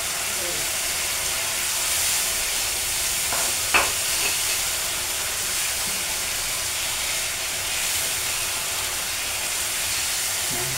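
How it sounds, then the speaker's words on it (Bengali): Fish for a fish curry sizzles loudly and steadily in hot oil in a home kitchen, a continuous hiss with a single short utensil clatter partway through. "তেলটা অলরেডি উপরে উঠে গেছে, এখন আমি মাছগুলো দিয়ে দেবো।"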